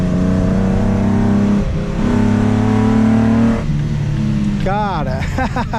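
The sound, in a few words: Nissan Skyline engine revving while accelerating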